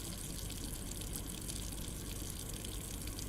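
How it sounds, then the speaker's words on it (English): Steady rushing water, like a tap or gushing flow, runs continuously and fairly close throughout, with no talking. "Listen to this water."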